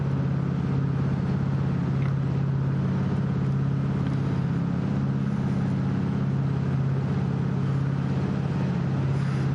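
The number 1 McLaren race car in a VR Le Mans racing game drones steadily, a constant loud engine hum with a low rumbling tone sustained throughout, no voices over it.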